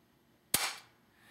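A Galaxy G6 spring airsoft handgun fires a single sharp, close crack that decays quickly in an otherwise quiet room.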